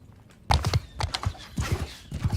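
Horse hooves clip-clop at a gallop during a medieval melee in Mount & Blade II: Bannerlord (Eagle Rising mod), loud and close, with rhythmic beats arriving in bursts and a whinny among them.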